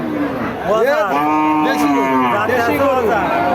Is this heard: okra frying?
no